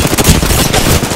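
Loud, dense machine-gun fire from a battle royale video game rattles continuously throughout, close and overpowering, with no voices.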